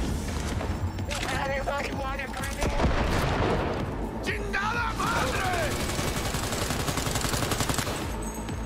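Gunfire in the video game Cyberpunk 2077 rattles in dense, continuous bursts, mixed with game sound effects and a person talking over the shooting.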